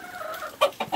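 Backyard chickens cluck close by while pecking at plums, with two short, sharp clucks following a soft warbling call.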